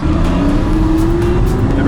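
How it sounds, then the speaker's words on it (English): A sports car roars loudly and close, its engine holding a steady high-revving drone while the tires spin, with no clear break in the sound. "Spinning the tires."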